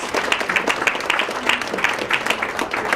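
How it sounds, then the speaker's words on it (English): Audience at a state conference keynote applauds themselves, many hands clapping in a busy, crackling burst that holds steady for a few seconds, fairly close and loud, with no voices over it. "Give yourselves a pat on the back and a big applause"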